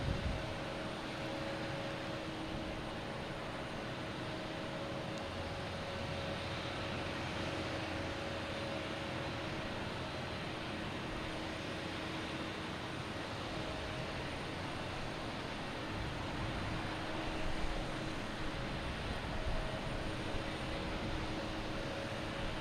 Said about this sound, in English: So the planes are all landing in a crosswind.